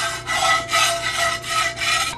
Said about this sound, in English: there's a piece of metal right there that's causing the spatula to snag